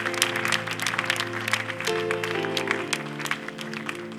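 A church congregation applauds and acclaims God, a dense patter of clapping mixed with a sustained chord of organ or keyboard underneath, steady throughout.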